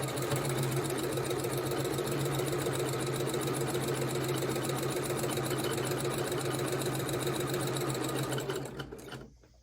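A sewing machine stitches a snail trail quilt block in one continuous, steady mechanical whir. It runs close and even for several seconds, then slows and stops at the end.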